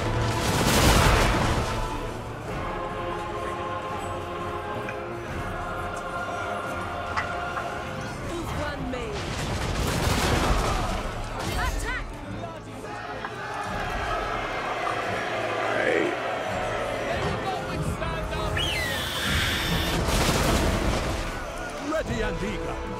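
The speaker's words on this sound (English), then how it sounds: "We're taking artillery damage." Artillery fire in a Total War Warhammer 2 battle booms repeatedly in heavy broadband blasts amid continuous crowd-like combat noise, with someone talking over much of it.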